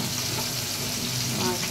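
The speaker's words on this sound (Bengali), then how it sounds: "মাছ ভেজে দিতেছে।" Fish sizzling in hot oil in a pan in a home kitchen, a close, continuous crackle and hiss filling the whole moment.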